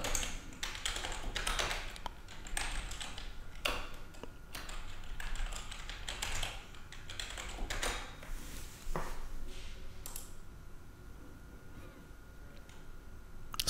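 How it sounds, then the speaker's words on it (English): A password is typed on a computer keyboard during Windows Server 2012 setup, with a dense run of close, quick key taps that thins out toward the end. "So I'm going to type in a password."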